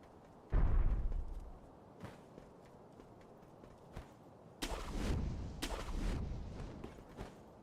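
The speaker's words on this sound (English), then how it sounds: "Sykes, the firecrackers on Gyobu" Firecracker bursts from the Sekiro video game, set off against the boss Gyobu: a loud crackling blast near the start, then two more sharp bursts a few seconds later over quiet game ambience.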